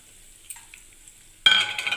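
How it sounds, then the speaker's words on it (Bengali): Vermicelli drops into hot oil in a wok, a near-silent moment with a few faint clinks, then a sudden loud burst of close sizzling that carries on to the end. "এটা আমি একটু ভেজে নেব ভার্মিসেলিটা,"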